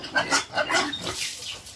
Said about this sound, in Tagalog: Na siya ang 1 month and 3 days na akong baboy.